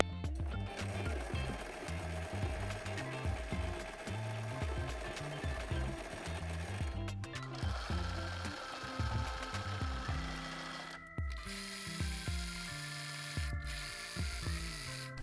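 A sewing machine stitches a decorative hem, a close, rapid mechanical whirring with a busy clattering pulse that shifts pattern and pitch between several short runs, briefly stopping in between.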